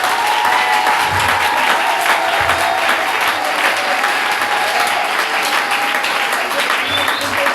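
Church congregation applauding together in a steady, dense wash of clapping that carries on throughout, with a few voices rising faintly within the crowd noise.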